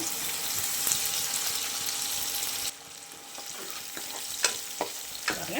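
Garlic and onions sauté in a pan for fish curry, a loud, close sizzle that suddenly drops quieter midway, followed by scattered scraping stirs against the pan.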